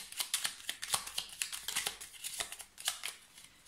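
Tarot cards being shuffled and laid out, giving a rapid run of crisp papery flicks and slaps at close range, steady and fairly quiet throughout with no talking.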